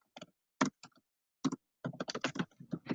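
Typing on a computer keyboard: scattered clicks at first, then a quicker run of close keystrokes, with no talk.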